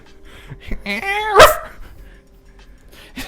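A single sharp dog bark rings out close by, with faint voices and background murmur around it.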